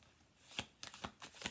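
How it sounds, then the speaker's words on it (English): Quick bursts of playing cards being riffled and shuffled, several crisp fluttering riffles in a row, close by and fairly quiet. "I'm going to do 2 more shuffle throughs."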